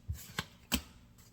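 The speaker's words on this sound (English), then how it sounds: "I'll shuffle the deck, cut the deck" A deck of playing cards is handled and shuffled for a magic trick, giving a few soft, separate riffles and taps close by in an otherwise quiet room.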